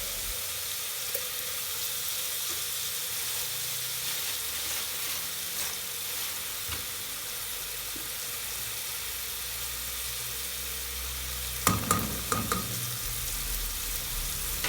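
Ingredients sizzle steadily in a hot pan while being sautéed for a Moroccan zaalouk of eggplant, a continuous close frying hiss with a few clinks and scrapes of stirring near the end.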